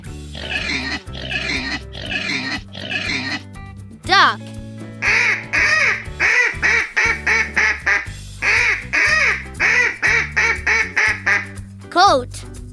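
A duck quacks in a rapid run of short, clipped honks, loud and near, over light background music, with a brief voice in between.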